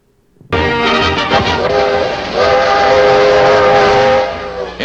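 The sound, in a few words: Friendship Train rolling and roaring, from newsreel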